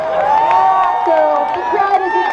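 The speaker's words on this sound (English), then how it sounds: "So the crowd is encouraging you to go for it." A crowd cheers and calls out at a Humboldt kinetic sculpture race water launch, a steady wash of many voices and whoops held close and loud through the whole moment.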